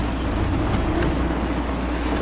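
Sailing ship pushing through gusty wind in Assassin's Creed III, with steady rushing wind and wave wash filling the whole stretch at constant loudness and no voices.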